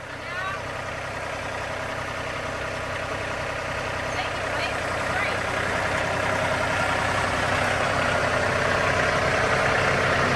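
A John Deere tractor engine runs steadily in a garden setting, a continuous low mechanical drone that swells slightly louder toward the end, with people talking over it.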